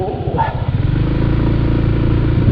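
A scooter being ridden, its small engine putting out a steady, close, rapidly pulsing putter throughout, with faint clatter underneath.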